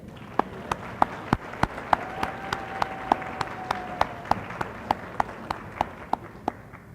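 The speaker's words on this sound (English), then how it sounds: "let's give him another round of applause" Graduation audience applause at a high school ceremony comes through as sparse, evenly spaced sharp claps ringing in a large hall, about three per second and fairly clear, with a faint sustained tone partway through.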